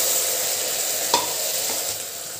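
Brinjal and tomato frying in a pan, heard as a continuous steady sizzle with a single brief utensil scrape partway through.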